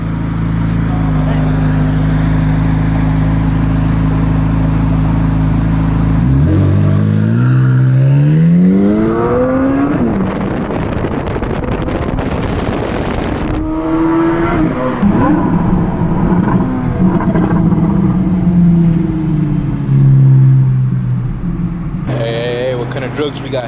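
A Chevrolet Corvette C8 Z06 idles with a deep steady burble, then roars through several loud rising revs as it pulls away, pitch sweeping up and falling back between pulls, with people talking over the engine.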